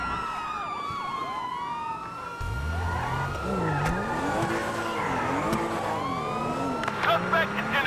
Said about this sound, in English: I quickly jump into my car and speed away.